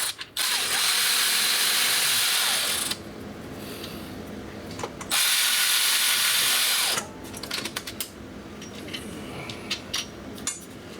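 A power tool buzzes in two long bursts on the starter bolts of a 2012 Kia Sedona, then ratchets and clicks with metallic clatter; fairly close, no speech.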